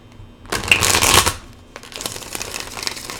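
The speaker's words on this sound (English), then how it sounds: "although I've already shuffled these cards, I just had to again" Tarot cards are shuffled in a quick riffle, followed by softer shuffling and tapping as the deck is handled.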